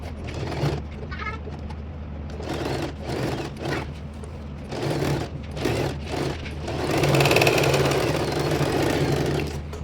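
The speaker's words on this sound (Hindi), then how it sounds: "देखिए हम इस तरह पॉइंट स्टिच लगाते हुए चलिए" A domestic sewing machine runs a point stitch along the front neck of a blouse, with a steady motor hum and bursts of stitching that ease off and pick up again, mixed with faint talk.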